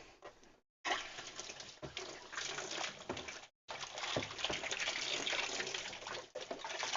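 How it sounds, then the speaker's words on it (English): Water running from a tap while something is rinsed out, a close gushing splash in several bursts with brief silent gaps between them. "Rinse this out real quick."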